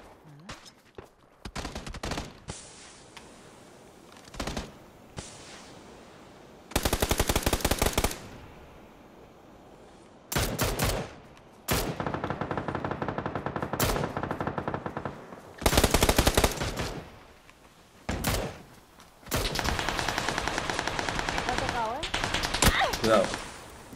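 Automatic and single gunfire from the PUBG video game comes in repeated loud bursts and short volleys separated by quieter gaps, with occasional voices from players talking.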